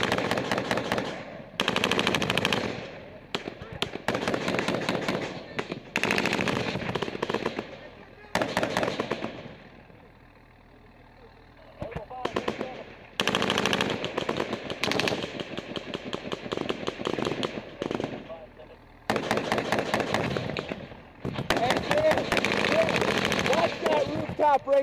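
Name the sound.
gunfire during a firefight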